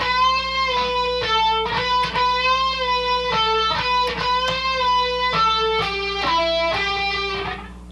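A distorted electric guitar solo plays a quick run of sustained, bending notes with brief picked attacks, loud and close, no voices.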